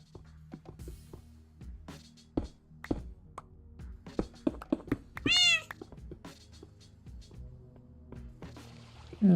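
A single cat meow from Minecraft Infdev rises clearly midway through a stretch of sharp clicks and thuds, with a low steady hum underneath.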